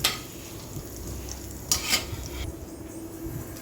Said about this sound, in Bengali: এটাকে একটু ভালো করে ভেজে নেব রসুনটা লাল হওয়া পর্যন্ত